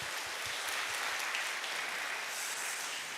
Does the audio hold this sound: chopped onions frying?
no